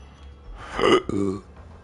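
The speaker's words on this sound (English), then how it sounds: "I literally just burped into the headset." A single loud, close burp goes straight into a VR headset microphone, a throaty guttural belch of about a second with a brief break in the middle.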